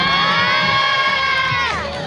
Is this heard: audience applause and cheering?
yes